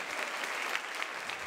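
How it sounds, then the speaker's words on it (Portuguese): A crowd at a live concert claps in a brief, dense burst of applause, steady and fairly close, with no voices over it. "Salva de palmas para vocês, gente."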